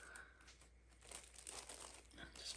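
Sheet of paper crinkling and rustling as it is patted down by hand onto a large 4 x 12 canvas during an acrylic pour painting, with soft irregular crackles at close range.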